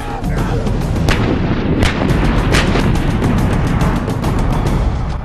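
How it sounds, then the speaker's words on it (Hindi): An Indian Army artillery regiment fires with heavy, booming reports that overlap into a dense, continuous roar. Sharper cracks stand out now and then, and the whole barrage stays loud throughout. "घातक बमबारी की क्षमता के कारण आधुनिक रणनीतियों के फैसलों में आर्टिलरी की खास भूमिका है।"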